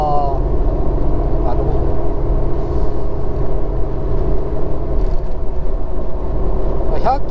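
Interior road noise of a Nissan Skyline R33 GT-R cruising at 100 km/h, a steady loud low rumble of tires and wind with a quiet engine, while someone talks throughout.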